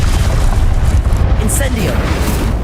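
A Confringo blasting spell explodes in the Hogwarts Legacy game amid a dense, continuous wash of low booming combat noise, with one brief brighter burst and a voice briefly speaking over it.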